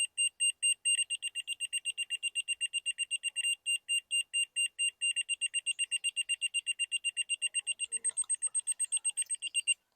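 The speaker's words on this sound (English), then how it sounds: "So a fast beep means I need to move up. Slow beep means I need to go down." Rapid high-pitched electronic beeping from a laser level receiver during deck building repeats steadily for ten seconds, pulsing evenly and fairly loud, with no voices.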